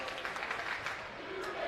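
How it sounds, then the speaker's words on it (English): Applause and crowd noise fill a nearly sold-out gym at a girls City Alliance high school basketball championship, with steady clapping and murmuring held close and even throughout. "The crowd is unbelievable."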